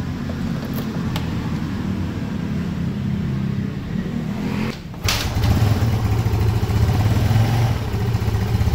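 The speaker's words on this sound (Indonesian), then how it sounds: "Ya, gasnya gedein. Gini lagi. Terus." A Yamaha Mio Soul scooter with a 130cc bore-up engine runs close by, its idle dropping briefly before the throttle opens into a louder, steady, raspy rev that holds to the end.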